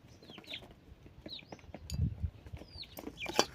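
Hens and small chicks peck at rice outdoors, with scattered faint clucks and chirps, light pecking taps and a soft flutter, quiet and intermittent.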